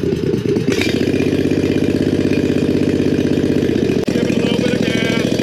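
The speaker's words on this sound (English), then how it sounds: "We are going to jack the rear of the go-kart up and start it up." A 670cc go-kart engine, rear jacked up, is started and settles into a steady, loud, throbbing idle close by, with one brief clunk near the end.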